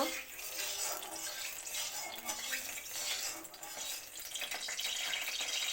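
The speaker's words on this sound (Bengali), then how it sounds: "তেলটা ভালো করে গরম হয়ে গেছে এবার মাছের মাথাগুলি ভালো করে ভাজা করা হইব" Rohu fish heads fry in hot mustard oil in a kadai, a steady close hiss and crackle of sizzling oil with occasional scraping and stirring clinks, running continuously.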